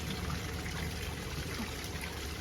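Water trickles steadily out of a 1990 Johnson 130HP outboard motor that sat seized for ten years, a continuous soft splashing flow heard close up without talking.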